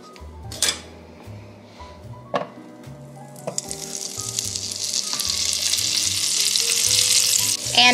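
A couple of tablespoons of butter melt in a hot skillet, opening with a few clinks and utensil taps over a low hum, then a sizzle that swells steadily into a loud, dense crackle.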